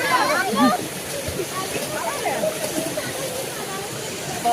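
Water pours down at Gandahati Waterfall as a constant broadband rush, with people talking over it nearby.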